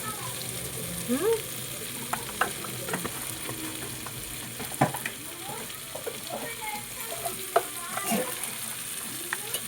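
Spices fried in a pan for a rice dish crackle and sizzle steadily, with scattered clinks and scrapes from stirring and short, close, sharp taps throughout.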